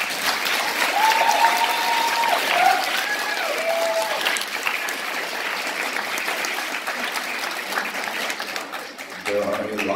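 An audience at an 8th grade school band concert applauds steadily for about ten seconds, a dense, even wash of clapping that fades slightly near the end.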